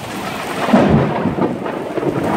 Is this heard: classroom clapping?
no